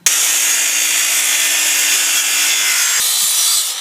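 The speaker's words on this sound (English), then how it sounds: "So the next step is to cut the post, the corner post, to 9 feet." Continuous sawing through a wooden corner post, a steady dense rasp lasting several seconds up close, then stopping abruptly as the cut finishes.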